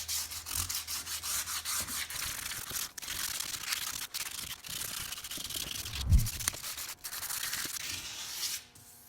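Hand drill sanding a wheel rim with 80-grit abrasive, giving a steady, close abrasive rubbing hiss with brief breaks and small scraping bursts throughout.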